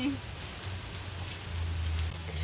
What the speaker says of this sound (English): heavy rain and bursts of small to moderate-sized hail